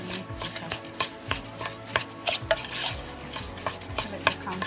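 A spoon scrapes and clinks as butter is mixed into crumbs for a mango cheesecake base, making a quick, irregular run of close scraping strokes and light taps against the pan, with no talking.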